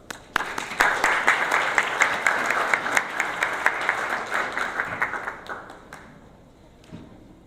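Audience applause welcoming a speaker at a medical conference session on anesthesia: dense, lively clapping from a room full of people holds steady for several seconds, then thins out and fades to a few scattered claps.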